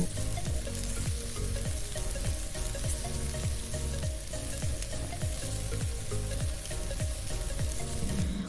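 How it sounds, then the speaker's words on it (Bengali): Cauliflower pieces for a vegetarian cauliflower curry fry in oil, giving a steady, loud sizzle with rhythmic scraping strokes from stirring throughout, and no voice over it. "সব কপির টুকরোগুলো হালকা সোনালি রং করে ভেজে নেওয়া হয়ে গেছে"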